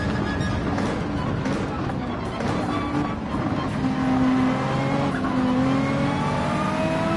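A Nissan Skyline race car in Gran Turismo 7 hums steadily through corners, its engine tone rising and falling in pitch with faint tire noise. A commentator talks over it.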